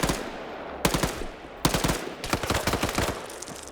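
Gunfire rings out in a multiplayer video game PvP match, ending in a headshot kill. A couple of single shots are followed by rapid, crackling automatic bursts, fairly distant and unaccompanied by voices.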